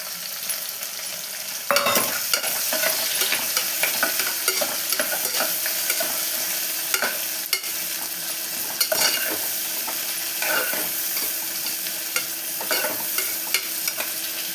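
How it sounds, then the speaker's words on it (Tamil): A large chopped onion, about a cup, sautéing in a hot pan for ghee rice, giving a steady close sizzle broken by frequent scraping stirs and clinks throughout, with no talking. "இப்போது நான் ஒரு பெரிய சைஸ் ஆனியன் வந்து கட் பண்ணியிருக்கேங்க, 1 கப் அளவுக்கு வந்திருக்கு. இதை கொட்டி நல்லா வதக்கிக்கலாம்."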